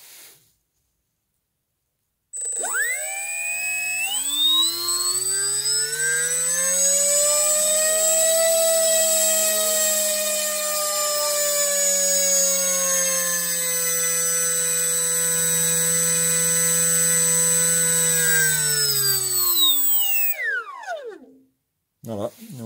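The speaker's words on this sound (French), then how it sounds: "on constate que le moteur, il tourne impeccablement bien" The electric motor salvaged from a crashed motor glider spins up with a rising whine, holds a steady high-pitched hum for about twenty seconds, then winds down abruptly into silence.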